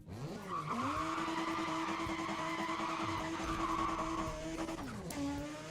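A Mazda RX-7 in a racing video game howls through a long sustained tire squeal over its engine drone, the pitch holding steady before dropping sharply as the slide ends.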